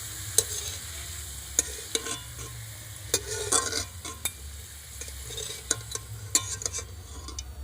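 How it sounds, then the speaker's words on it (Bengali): Carrot pieces fry in a pan with a steady close sizzle, broken by repeated clinks and scrapes of a utensil stirring them, for a vegetable khichuri. "গাজরটা আমি খুব ভালোভাবে ভেজে নেব।"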